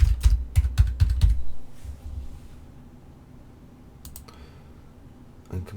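Fingers type an admin username and password on a computer keyboard in quick bursts of close, crisp key clicks, then a pause of quiet room noise before a final few taps.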